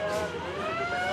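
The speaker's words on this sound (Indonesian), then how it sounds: "Tampak di layar kita juga ambulan hiperbarik dari Lembaga Kesehatan Kelautan TNI Angkatan Laut tengah mendekat" Wailing siren of a Navy hyperbaric ambulance approaching, a steady rising electronic tone heard at moderate distance over background traffic noise.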